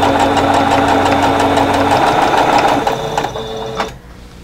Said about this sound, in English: going to go ahead and chain piece all of these together